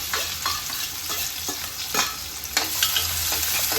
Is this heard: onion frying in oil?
yes